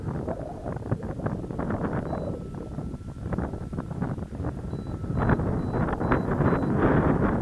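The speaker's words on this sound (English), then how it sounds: "wind has a wind, very strong wind" Very strong wind roars across the microphone at a glider flying field, producing a loud, steady, gusting rumble throughout that swells louder toward the end.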